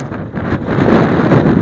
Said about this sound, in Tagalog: malakas yung hangin ngayon kasi nga amihan pa ngayon